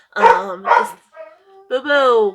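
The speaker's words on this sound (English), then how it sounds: "excuse the dogs, the travel slash searching element" One or two dogs barking near, a couple of short sharp yaps before a person speaks in a home setting; a voice talks over the later part.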